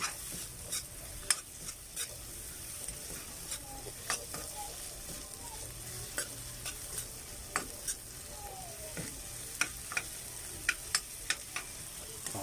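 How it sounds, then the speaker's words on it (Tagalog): Sisig stirred in hot oil makes a steady, soft sizzle throughout, with repeated light scraping clicks of a utensil against the pan at irregular intervals. "Konting mantika, takloban, balik sa lagayan, at haluin."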